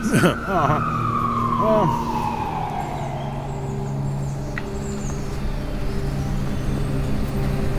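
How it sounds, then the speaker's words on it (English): An ambulance siren wails and sweeps downward in pitch as it passes, fading into steady traffic rumble, with engine noise underneath. "Oh, wait a minute, that might be an ambulance. I think that's an ambulance."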